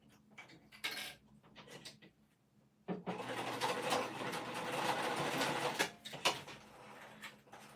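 Sewing machine stitching a tack along the folded edge of a bag zipper, a steady whirring run of a few seconds following quieter handling taps, close and alone.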